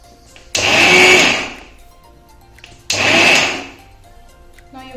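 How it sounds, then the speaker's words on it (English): A blender grinds sesame seeds coarsely for til gud laddu in two loud bursts, each about two seconds long, separated by a short pause, with no talking. "careful while blending the sesame seeds. It should not be very powder. It should be coarsely blend"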